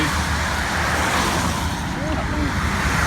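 Loud, steady road roar of a car driving along the hard shoulder, heard close, with broadband traffic noise and no distinct pass-by peak.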